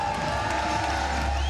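Crowd cheering along the canal during the Amsterdam Gay Pride Canal Parade as the military salutes, a continuous distant roar of voices and whoops with a steady tone underneath.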